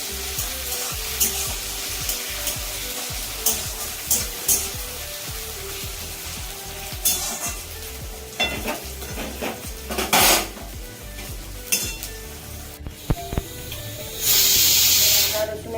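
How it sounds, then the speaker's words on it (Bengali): Chopped tomato and onion fry with a continuous sizzle while a utensil scrapes and clinks against the pan, ending in a louder burst of hissing. "এবারে টমেটো কুচি আর পেঁয়াজটা ভাজতে হবে"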